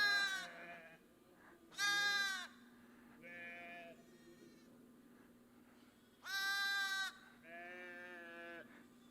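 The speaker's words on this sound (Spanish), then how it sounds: "¿Notan la diferencia del sonido de la oveja y del corderito?" Sheep and a lamb bleat in turn, five separate calls spaced a second or two apart, some deeper and fuller and others higher and thinner, clear and close over a low steady hum.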